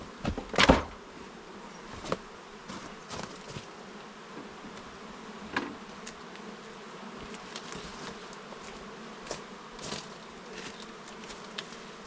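Honeybees buzz steadily inside an opened hive holding about ten frames of bees, with a third super just added late in the year; a constant soft hum runs throughout, broken by a few louder close buzzes as single bees fly past.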